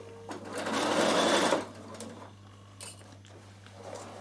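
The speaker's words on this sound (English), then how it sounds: "do not start satin stitching it till you've checked you've got all" A sewing machine runs a satin stitch through the stacked fabric layers of a knitting bag, one steady close whirring burst of about a second and a half, followed by quieter handling noises.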